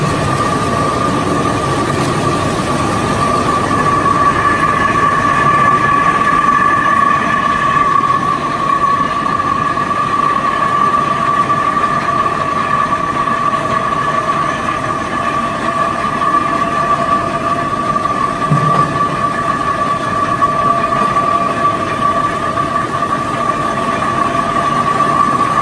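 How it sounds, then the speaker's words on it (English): A wood rotary cutting machine peels logs into wooden veneer with a continuous mechanical whine and drone, a steady tonal hum that holds at even loudness throughout with no pauses. "first machine is the wood rotary cutting machine. It is for making the wood into the wooden veneer."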